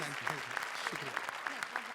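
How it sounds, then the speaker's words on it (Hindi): Applause from an audience, a dense patter of clapping with voices talking over it. "जोरदार तालियां"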